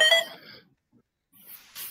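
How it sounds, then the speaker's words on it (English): A short chiming computer notification alert, modeled on a game victory sound, rings out briefly, then a quiet gap, then a faint rustle at the end. "Oh, that was my notifications."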